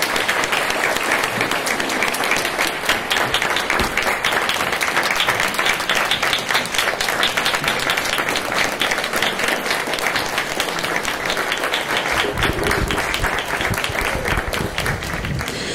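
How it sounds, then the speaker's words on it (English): A crowd at a candidates' forum for Georgia House District 144 claps in sustained, dense applause that holds at an even loudness for about fifteen seconds before thinning slightly. "Let's give our candidates a round of applause, right?"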